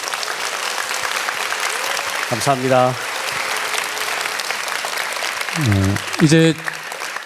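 An audience at a Korean book-concert lecture on Latin and the Vatican applauds in steady, sustained clapping that fills the hall, while a host speaks briefly over it near the middle and the end.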